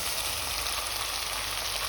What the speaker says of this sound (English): And now I'm going to add the farro